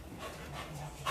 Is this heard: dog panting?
yes